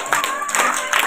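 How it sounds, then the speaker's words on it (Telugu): Audience clapping at a school fancy dress competition, a short burst of applause from a crowd with voices mixed in, moderately loud. "చప్పట్లు గట్టిగా."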